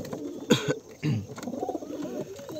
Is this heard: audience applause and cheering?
no